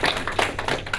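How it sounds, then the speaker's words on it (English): Audience applause at a high school broadcasting awards show honoring student athletes and clubs: a brief, dense patter of hand claps at steady volume, fairly close. "Round of applause."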